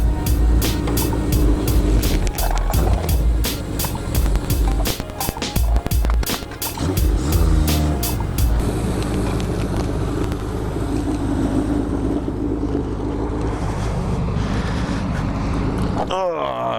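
An old motorcycle engine runs loud and rough right after new valves and a Dyna ignition were fitted, with rapid firing pulses at first, then a steadier roar mixed with wind noise and a sharp clatter at the end.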